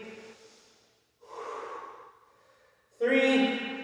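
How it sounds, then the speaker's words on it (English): Deep, audible breaths during a resistance band workout: two slow exhales followed by a sharper, louder inhale or snort, close to the listener. "Deep breathing."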